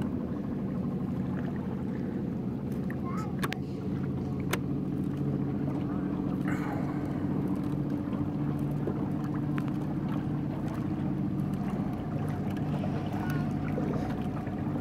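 A Water Wheeler electric paddle boat moves forward across water, with a steady low drone and churning, splashing water running continuously and close by, plus occasional small knocks.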